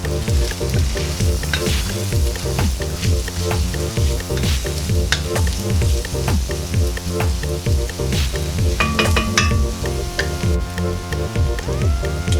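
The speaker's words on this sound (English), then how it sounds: "Now it's a good time to add our roasted poblano peppers." Roasted poblano peppers being stirred into a pot of simmering Southwest chili: a steady, close sizzle and bubble with repeated scraping stir strokes running throughout, and no talk.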